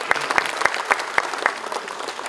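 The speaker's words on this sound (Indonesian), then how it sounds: "Tepuk tangan yang gemuruh untuk kita semuanya." An audience at an Indonesian political volunteer gathering claps in a steady, rhythmic beat, about six sharp, evenly spaced claps over a dense bed of crowd noise.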